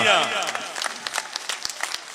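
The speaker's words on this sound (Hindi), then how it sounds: "मोहन यादव जी के लिए जोरदार तालियां, शानदार तालियां, दतिया जैसी तालियां" A crowd claps at an election nomination rally in Datia, a rousing burst of applause that thins into scattered individual claps, with a loud voice at the start.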